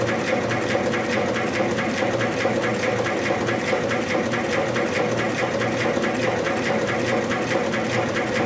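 A CAMS 1V6P automatic rhinestone machine runs steadily, a dense, even mechanical whir with a fast repetitive clatter of setting guns, loud and continuous throughout with no voices.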